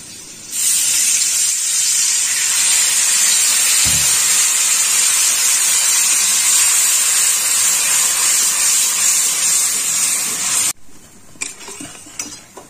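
Turmeric and salt sizzle loudly in a hot pan after a splash of water, a steady close hiss that holds for about ten seconds, then drops off into a few faint clinks and stirs.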